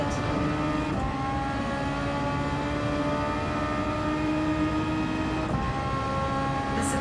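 In the Gran Turismo 7 game, a Super Formula race car at Monza holds a loud, continuous engine whine. Its pitch climbs steadily through the gears, with two sharp gear-shift breaks, up close and alone.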